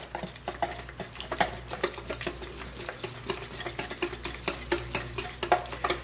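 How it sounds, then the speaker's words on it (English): A whisk beats flour, yeast and warm water in a mixing bowl for homemade hamburger buns, making a steady, fast rhythmic clicking and scraping that continues close-up with no talk. "And just keep whisking it to mix it very well."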